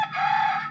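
A brief fragment of a rooster crowing in Thailand: one clear, strained tonal cry, close and fairly loud, with nothing else heard.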